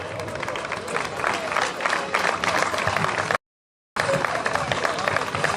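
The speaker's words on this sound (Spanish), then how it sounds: "damos un forte aplauso" A crowd applauds a class podium finisher at the awards ceremony of the 2023 Subida a Vilar de Barrio rally hill climb. The clapping is broad and continuous with background hubbub, and it cuts out briefly midway before resuming.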